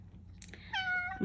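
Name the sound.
cat meowing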